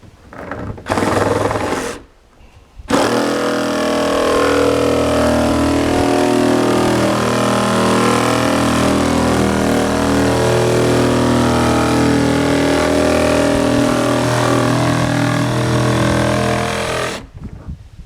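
Power tool cutting plastic tote bladders for firewood lids, a short buzz, a pause, then a loud sustained motor whine with cutting rasp lasting about fifteen seconds before stopping.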